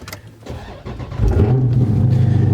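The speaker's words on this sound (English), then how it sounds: "now that we're in the car, let's get that cold start" A Dodge Charger Scat Pack engine cold-starts, cranking briefly, then catches and settles into a steady, loud idle rumble close by.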